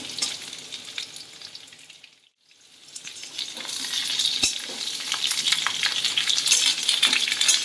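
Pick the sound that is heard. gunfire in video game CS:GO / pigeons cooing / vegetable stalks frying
vegetable stalks frying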